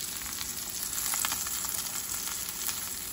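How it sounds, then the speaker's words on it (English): Steak and fries cooking in a pan, a soft continuous sizzle with light crackle and slight swells in intensity, heard alone without talk. "Steak and fries. Get those cooked in there."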